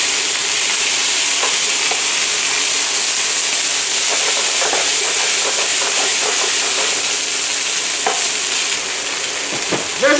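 Lentils and drained mushrooms sizzle steadily in a hot pan, a loud, even frying hiss with occasional clicks of stirring near the end.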